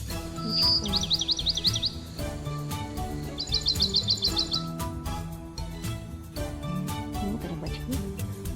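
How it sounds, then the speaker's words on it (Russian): Small birds sing near a lake on a hot day, two clear bursts of rapid repeated high chirps over a steady busy background of other sounds. "Птички поют."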